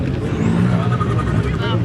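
A Mazda RX-7 FD pulls away from a car meet, its engine a loud, brief, continuous rumbling drone heard close by with outdoor noise around it.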